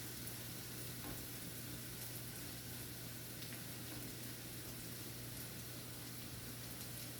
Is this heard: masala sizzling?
yes